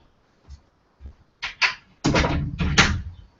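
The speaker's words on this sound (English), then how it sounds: "Let me close this door now." A door is pushed shut indoors, several soft knocks and creaks leading into a couple of louder thuds and rattles, close by, without talk.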